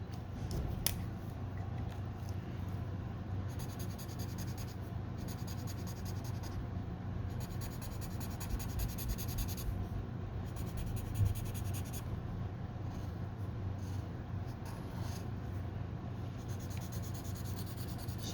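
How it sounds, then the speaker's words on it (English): A fine-tipped marker scratches softly and continuously across paper while filling in a large area, with rhythmic back-and-forth strokes, faint and close. "Shouldn't really be coloring in these big spaces with the fine marker"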